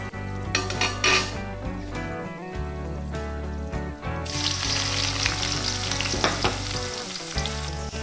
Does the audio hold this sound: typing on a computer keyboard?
no